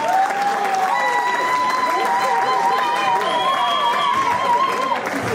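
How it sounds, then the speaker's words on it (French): Audience applauding a couple at an evening dance party in Villers-Saint-Paul, steady crowd clapping with some cheering over a music-like tonal background, continuous and fairly loud throughout. "Mesdames, messieurs, applaudissez une fois encore ce couple."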